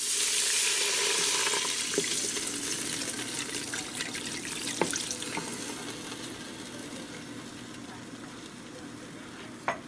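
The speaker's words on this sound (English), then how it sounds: "And now let's go ahead and add the 2 cups of beef broth." Beef broth pours steadily into a pot with a soft hissing splash, fading slightly, with a few light clinks along the way.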